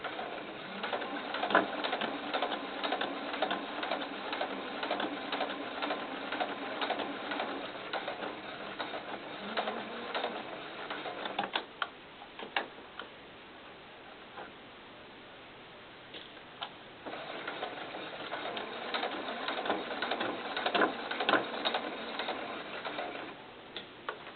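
A sewing machine stitches a collar onto a doll coat in rapid, ticking bursts. Several stretches of running are broken by short pauses, with a quieter gap near the middle before the stitching resumes close by.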